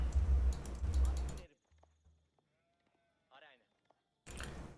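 A short sheep bleat in a strategy video game sounds faintly in a quiet gap, framed by bursts of loud clattering noise at the start and end.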